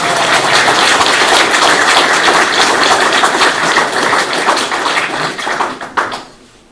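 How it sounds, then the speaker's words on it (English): Audience at an art talk breaking into loud, sustained applause, dense rapid clapping that holds steady for several seconds before tapering off at the end. "Give him a round of applause"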